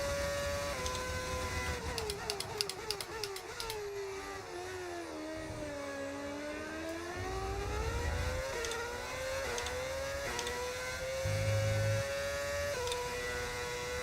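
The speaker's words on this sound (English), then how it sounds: "What's that livery and why does it sound like a V10?" Modded V10 engine of a Benetton car in the F1 25 racing game, a high, buzzing engine whine that rises and falls steadily through gear changes and revs, continuous and loud for the whole stretch.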